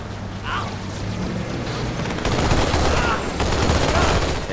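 Sustained gunfire and heavy weapon bursts in a Halo 2 Anniversary level, with enemies shooting from the far side while turrets and a Ghost vehicle are engaged; dense, loud, continuous firing, with a faint voice near the start.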